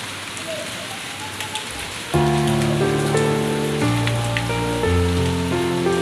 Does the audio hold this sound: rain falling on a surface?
yes